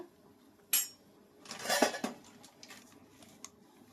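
A metal utensil stirs rice in a pot, giving a few quiet scraping clinks: one short sharp knock, then a longer grating scrape a moment later, with faint taps between them in an otherwise quiet kitchen.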